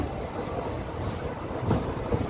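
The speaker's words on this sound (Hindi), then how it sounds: "Mailani Lucknow express. मोहल्लापुर railway station पे अराइव करते हुए" Mailani–Lucknow Express pulling into Mohibullapur railway station, a steady low rumble of the train with wind buffeting, swelling slightly near the end, no talk.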